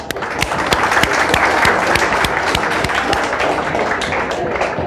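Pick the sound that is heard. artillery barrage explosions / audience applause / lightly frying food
audience applause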